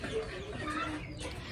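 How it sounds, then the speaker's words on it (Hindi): Roosters and hens cluck close by outdoors, short throaty calls over a busy, noisy farmyard background. "हमारे जो मुर्गे हैं ना इनको भी बाहर निकालते हैं"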